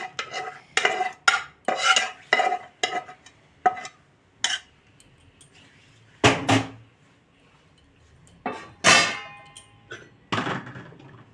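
A metal spoon clangs and scrapes sharply against a pan as curry is stirred into pav bhaji vegetables, in a series of loud, close, irregular knocks separated by short quiet gaps.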